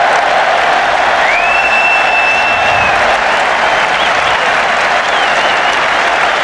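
Steady, loud applause from a large cricket crowd at the 1981 Ashes fifth Test greets a boundary four from Mike Gatting, with a whistle rising over the sustained clapping.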